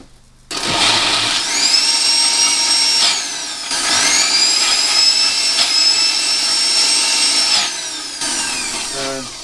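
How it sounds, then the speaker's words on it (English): A kitchen blender runs steadily, whirring and whining as it purees black currants and gooseberries for solar-dried fruit leather, loud and close across two long runs with a brief dip between them. "we're just putting these into the blender"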